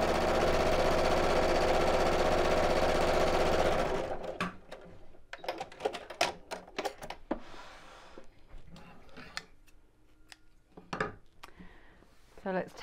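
A sewing machine runs steadily while stitching along the side of a viscose bag, a loud continuous whir for about four seconds that then stops, giving way to faint handling clicks and rustles of fabric.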